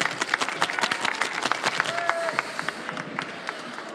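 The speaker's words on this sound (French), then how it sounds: "on l'encourage, on applaudit, allez." Audience at a coffee cocktail competition final claps and cheers for a competitor shaking a drink, a fairly quiet, sustained patter of applause with scattered sharp claps and crowd noise.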